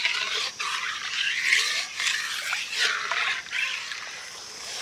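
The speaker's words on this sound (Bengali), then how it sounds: "দুধটা জাল দেওয়ার সময় অনবরত দুধটাকে নাড়তে হবে।" Steady scraping and swishing of a spoon stirring milk made from milk powder as it heats in a pot, continuous and close with no talking.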